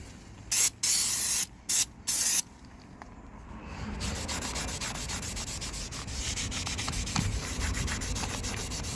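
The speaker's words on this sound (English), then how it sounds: "So brake cleaner." Brake cleaner is sprayed onto a Peugeot 207 brake disc in four loud, close, hissing bursts, followed by a long stretch of steady scrubbing and rubbing.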